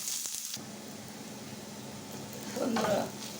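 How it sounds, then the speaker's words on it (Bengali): Onions, garlic and green chillies fry in mustard oil until reddish, with a continuous close sizzle and faint stirring scrapes. A short, louder stir near the end briefly lifts the sound. "একটু লাল লাল করে ভেজে নেব"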